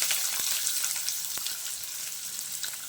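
Onions, green chilies and curry leaves frying in a pan for puffed-rice upma, a steady close hiss of sizzling oil with a few soft stirring clicks and no talking.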